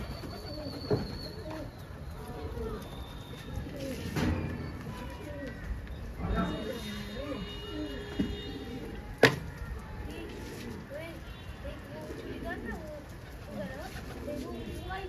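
Pigeons coo repeatedly at a rural pigeon-fighting gathering, soft and mid-distance, with a sharp knock partway through and people talking in the background throughout.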